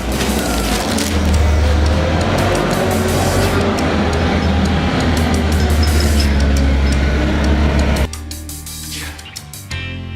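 Steady low road rumble inside a moving vehicle as it drives on, with broadband tire and wind noise that drops off abruptly near the end.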